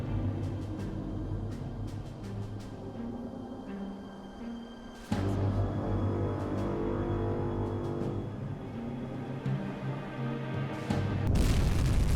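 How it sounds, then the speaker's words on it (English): Torpedo hits exploding against a destroyer in the UBOAT submarine game, two deep booming blasts with a sudden onset midway, followed by rumbling and a louder crash near the end, with no talking. "Okay, we've got 2 good hits here on the destroyer closest to us."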